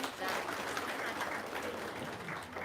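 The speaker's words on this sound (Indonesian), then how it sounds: "Oke, tepuk tangan dong." Audience applause at a religious gathering: a steady, dense wash of clapping throughout, fairly even in loudness, with some voices mixed in.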